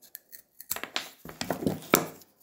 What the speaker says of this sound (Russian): ножницами большими у основания аккуратно обрезаю ложечку